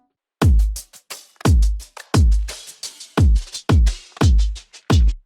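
A pop beat made in FL Studio pairs a deep kick with hi-hats whose volume is ducked by Fruity Limiter on every kick hit, giving a steady pattern of heavy thumps with short, clipped ticks pumping in between.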